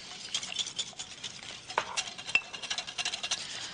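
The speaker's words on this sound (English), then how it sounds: "And now whisk in your dry ingredients." Whisk stirring dry ingredients into milk for a thin batter, a steady close scraping and clinking against the bowl with no talk.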